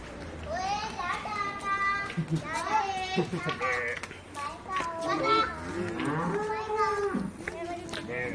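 Cows low and moo repeatedly nearby while being loaded onto a vehicle at a dairy farm, amid lively commotion, with children's voices and people talking throughout.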